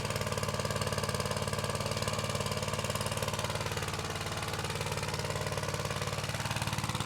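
A Junior Chief engine idles steadily right after starting, a loud, even mechanical chug with a constant rhythm throughout and no talking over it.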